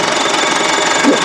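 A Case 1150 dozer's engine runs steadily while the machine backs up in reverse, a continuous mid-level mechanical drone with a faint knocking texture and no clear changes in pace.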